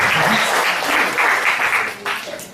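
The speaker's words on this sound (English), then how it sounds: "Can you please give a clap for" Loud audience clapping at a product demonstration seminar, a burst of applause from a room full of people that continues for a couple of seconds before easing.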